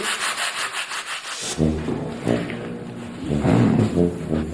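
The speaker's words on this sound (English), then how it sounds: "Jeannie and her new partner Shelley begin diligently sanding." Steady rhythmic scraping of sandpaper on a wall, close and continuous, with repeated back-and-forth strokes.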